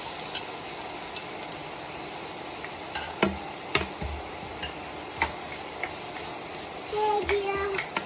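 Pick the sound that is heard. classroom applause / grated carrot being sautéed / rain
grated carrot being sautéed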